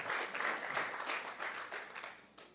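An audience at a Longaberger homecoming event for the company's 125th anniversary claps. The applause is moderate and fairly sparse, with a steady patter that thins toward the end.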